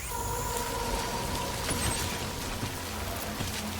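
Steady rain in the video game Death Stranding: a soft, even hiss of falling drops that holds at a low level the whole time, with no voices present.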